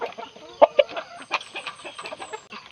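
A gamefowl rooster cluck and peck at a feed of egg white and banana, with a couple of sharp pecking taps and soft clucks close by, no talking.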